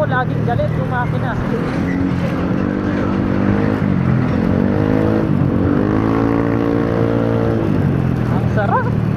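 A motorcycle engine revs up and down repeatedly, its pitch rising and falling in loud sweeps, with someone speaking briefly at the start and end.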